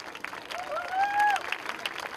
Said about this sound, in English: Ladies and gentlemen, come on, we cannot stop applauding for them